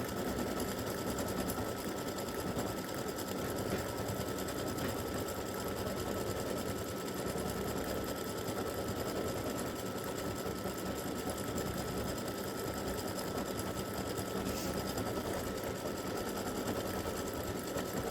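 A sewing machine stitches free-standing lace bee earrings in a continuous, even mechanical whir with rapid needle ticking, running steadily at moderate volume with no voices.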